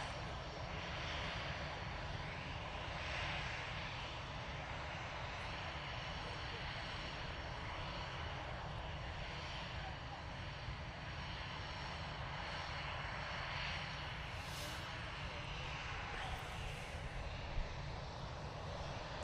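An Easyjet airliner departing Manchester for the Isle of Man makes a continuous engine drone at moderate distance, with a voice talking over it.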